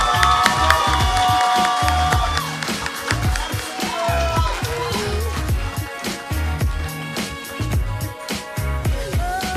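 Applause and cheering at a community police youth award ceremony, mixed with loud rhythmic music that carries lively beats and fluttering tones throughout.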